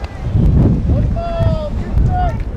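Gusty wind buffets the microphone at an outdoor Little League softball field in Pine Top, producing low rumbling roars, with faint high whistles and tones over it.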